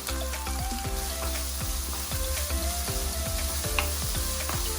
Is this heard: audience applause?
no